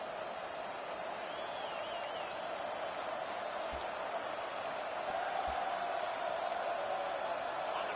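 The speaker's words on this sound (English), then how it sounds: "with this place rocking, the crowd forces a false start" A stadium crowd at an Oklahoma State vs Oregon football game makes a constant, dense roar with no breaks, loud and steady throughout.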